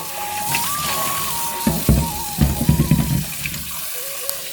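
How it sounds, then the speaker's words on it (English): Water runs and splashes in a sink while a fish is rinsed by hand, with brief clattering and sloshing bursts over a steady moderate stream. "Now let's do another quick rinse"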